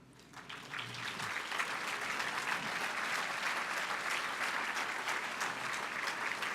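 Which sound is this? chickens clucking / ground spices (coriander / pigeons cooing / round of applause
round of applause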